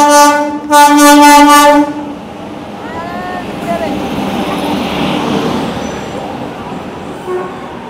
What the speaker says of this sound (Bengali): ট্রেন সবে এখন প্ল্যাটফর্মে প্রবেশ করছে। Wave 7-এর engine.